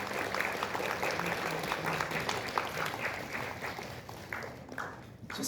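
Audience applause at a ceremony marking the 76th anniversary of Korea's founding, an awards and scholarship event, a steady sustained clapping that holds at an even level throughout before easing slightly near the end.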